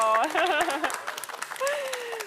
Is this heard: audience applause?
yes